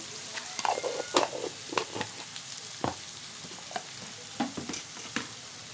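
Eggplant pieces fry and sizzle in a pan for a dried fish curry while being stirred. The scraping stir strokes are intermittent over a soft, steady frying hiss, close by and with no talking.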